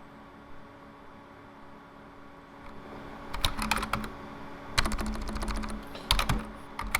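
Typing on a computer keyboard while configuring a Cisco network switch: quiet background hum, then bursts of rapid key clicks in short clustered runs, fairly close and with no talk.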